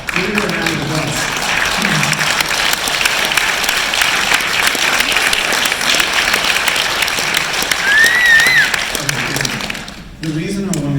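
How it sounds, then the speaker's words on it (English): A keynote audience bursts into sustained applause, dense clapping lasting several seconds, with a voice briefly heard at the start and again as it stops. "Give me a round of applause."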